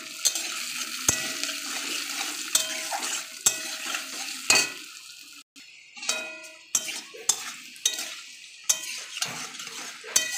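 Potatoes seasoned with salt and turmeric fry in a pan with a low hiss, while a spoon knocks and scrapes against the pan in sharp, regular clicks.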